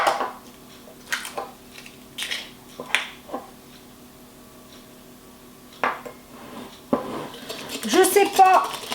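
Utensil scraping and clinking against a bowl as eggs are mixed one at a time into apple cinnamon cake batter, with irregular close knocks and stirring strokes separated by a quiet pause.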